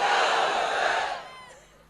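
A large crowd at a religious gathering shouts the Takbeer slogan back in unison, a loud roaring chant from many voices that swells and then fades away within two seconds.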